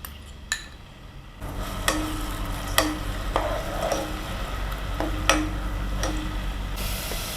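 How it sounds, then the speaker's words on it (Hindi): Ground onion fries in about four tablespoons of hot oil in a pan, giving a steady sizzle while a spoon stirs and scrapes, with sharp clinks of metal on the pan at irregular intervals. "वो ऑयल में डालेंगे और फ्राई करेंगे थोड़ा।"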